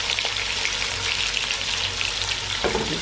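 Onions fry in a pan of hot spices at the start of a spinach chicken (palak chicken) dish. A continuous, close sizzle with spattering crackles stays steady, and a brief stir or clatter comes near the end. No speech.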